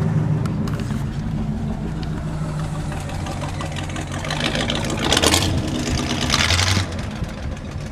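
A vehicle engine idles steadily at close range, giving a continuous low rumble that swells briefly in the middle, with no talk.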